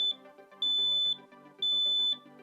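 A smoke detector alarm sounds in three long, loud, steady high-pitched beeps, each about half a second long, separated by short pauses and repeating in a regular rhythm.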